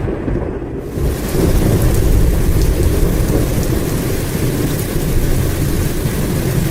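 A heavy thunderstorm sound effect plays as a dense, loud roar of rain with deep rumbling thunder, swelling in after a brief quieter opening and then holding steady; no speech is heard.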